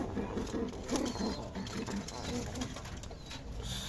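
Newly bought pigeons coo in soft, repeated low calls close by, over steady background noise with faint voices.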